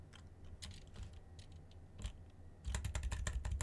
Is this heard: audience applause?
no